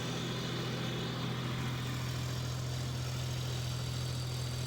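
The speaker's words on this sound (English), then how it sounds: "I was running in second or third gear while I got it in 4 low so that I keep the RPMs up" An old tractor engine runs steadily at fairly high RPM in low gear while bush hogging an overgrown field, a continuous loud drone with a strong low hum and constant vibration, no voices.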